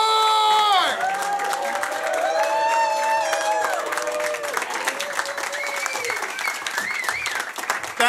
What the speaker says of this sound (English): Give a big, warm round of applause for Dan McCord!